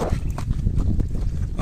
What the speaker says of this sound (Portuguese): Aí o cavalo QT aí tá solto na pastagem agora